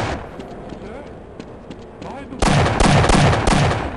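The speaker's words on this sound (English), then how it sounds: "Yep, they're shotguns." Shotgun fire in the video game Half-Life: after a quieter stretch, a rapid run of loud, close, punchy blasts fires in quick succession, each one cracking sharply with a heavy low boom.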